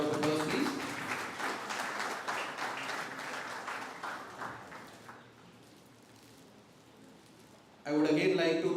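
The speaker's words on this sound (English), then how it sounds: "Warm round of applause, please." Audience clapping at a technical exposition fills the opening seconds, then thins out and fades to near quiet before a voice comes in loudly at the end.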